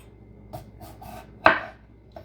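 A knife cuts through large yellow-skinned seed potatoes, giving a few soft, close taps against the board and one sharper, louder chop near the end, with no one talking.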